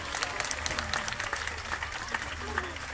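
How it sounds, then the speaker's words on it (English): Audience applause at a sea lion show at Chessington Zoo, a steady wash of clapping from the crowd that holds at an even level for the whole stretch. "Let's give the girls a massive round of applause."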